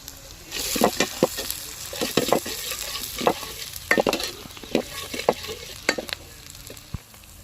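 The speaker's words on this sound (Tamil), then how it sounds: "கருவேப்பிலை போட்டுக்கலாம்" Curry leaves crackling and frying in hot oil for a quail egg gravy, with repeated stirring scrapes and sharp sizzling pops over a steady frying hiss, close and fairly loud.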